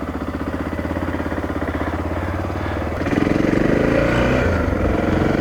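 A 2000 Honda XR600R dual-sport motorcycle rides near Foresthill, its single-cylinder engine pulsing steadily up close, then rising loudly as the rider opens the throttle and accelerates partway through.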